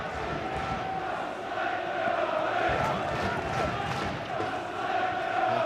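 A packed football crowd of about 9,000 at Leyton Orient's ground for an FA Cup fifth-round tie against Arsenal, a continuous far-off murmur and chant swelling slightly, with voices talking over it.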